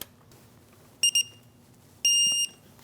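A digital torque wrench beeps several times in clear, high tones on reaching 74 foot-pounds: a few quick chirps, then a longer sustained beep, over faint background hum.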